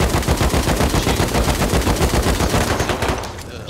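Continuous rapid automatic gunfire with incendiary bullets in the video game Rust, loud and close, a dense steady stream of shots for several seconds that cuts off abruptly near the end.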